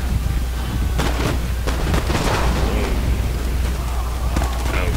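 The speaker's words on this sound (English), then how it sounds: "Bringing in gunfire from the 4th Regiment." Musket volleys and artillery fire rumble through an Empire Total War battle on the Danube, a dense mix of deep booms and sharp cracks over a continuous low roar.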